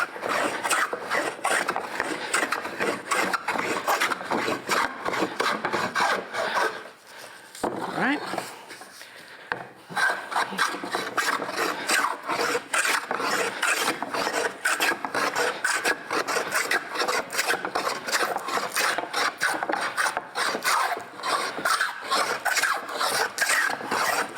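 A hand tool rasps across a wooden chair seat in steady, rhythmic strokes, shaving off the high spots, with a short pause midway before the scraping resumes.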